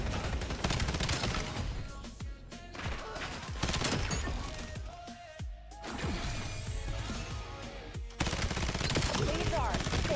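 Rapid bursts of automatic gunfire and single shots in a Call of Duty match, dense and loud, running through nearly the whole stretch with a brief lull near the middle.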